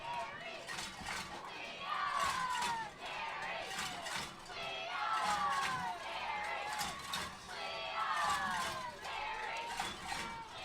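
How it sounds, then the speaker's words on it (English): Hometown crowd at a Carey versus Tinora high school football playoff game, a steady roar of cheering and chatter with swelling bursts of excitement, heard from within the stands. "So the hometown crowd's fired up here."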